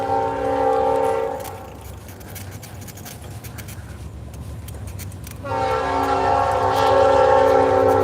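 A train in Ironton sounds its horn in loud, sustained multi-tone blasts, then drops to a rumbling roll of rail cars, then blasts the horn again, long and close, with no talking.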